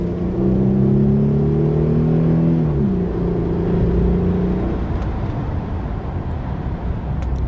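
A Mercedes CLK320 accelerates at full throttle, its engine tone rising through a gear change and then settling into a loud, steady rush of road and wind noise.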